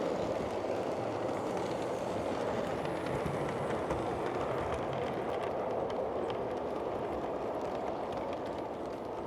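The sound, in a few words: model railway passenger train running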